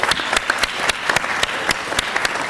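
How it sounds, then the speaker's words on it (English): A city council meeting audience gives a round of applause, dense steady clapping with several sharper individual claps standing out, fairly close and loud throughout. "give them the type of round of applause they deserve"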